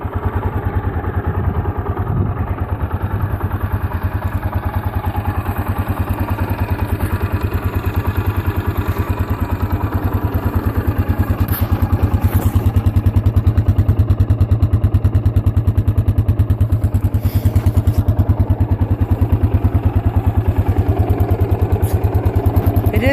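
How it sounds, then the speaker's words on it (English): A 2015 Honda CRF230F dirt bike engine idles steadily after start-up with its stock exhaust, a close, even, quiet thrum with light mechanical clatter and a slight rise in level partway through. "It is a nice sounding, quiet bike with all your parts and your exhaust in"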